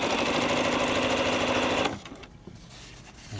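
A sewing machine runs steadily as it stitches a corded bias ruffle at standard stitch length, then stops abruptly near the two-second mark. Faint handling sounds follow, with no talking.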